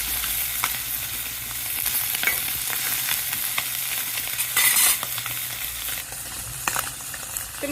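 Potatoes fry lightly in a pan in a village kitchen, giving a continuous close sizzle with intermittent stirring clicks and scrapes and no speech.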